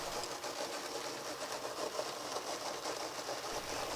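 The Mesmergraph drawing machine runs with a continuous mechanical whir and faint rapid rattle, steady and close, with no speech.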